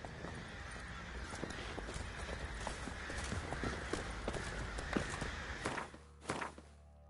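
Roach, the horse from The Witcher 3, gallops with steady rapid hoofbeats and a brief whinny, close and clear, with a short pause near the end.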